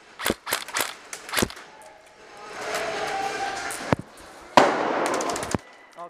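Airsoft guns snap off sharp, close shots in quick bursts during an indoor CQB game, with a stretch of rattling mechanical noise and footsteps between the volleys.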